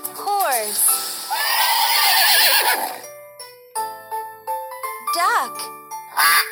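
A cartoon horse in a kids' educational animal puzzle game gives a loud, close whinny with falling pitch sweeps, followed by tinkling chime notes and another short neigh at the end.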